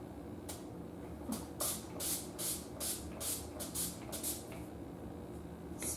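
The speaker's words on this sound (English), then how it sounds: "Spray it all over my face." A setting spray bottle hisses in a series of short bursts onto a face, about a dozen quick sprays in loose rhythm, close and fairly soft.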